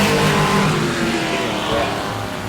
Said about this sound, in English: So basically these trucks are coming out for qualifying based on the draw.